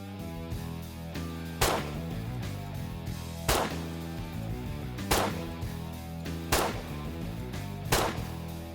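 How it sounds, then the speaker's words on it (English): Gunshots ring out from a rifle with a fixed sight being zeroed at a target, five sharp, loud reports spaced about two seconds apart over a steady background hum. "shoot another little group here and see if they come into center"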